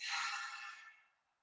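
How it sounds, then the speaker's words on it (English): A single soft breath pushed out through the mouth during a calm embodiment practice, a close airy whoosh that starts strong and fades away over about a second, alone with no talk. "Taking a few inhales and exhales in through the nose and out through the mouth"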